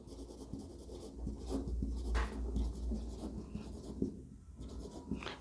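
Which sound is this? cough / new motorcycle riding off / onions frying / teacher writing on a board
teacher writing on a board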